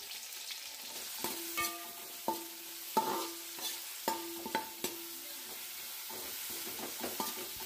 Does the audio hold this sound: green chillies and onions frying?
yes